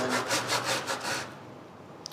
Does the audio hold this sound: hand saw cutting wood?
yes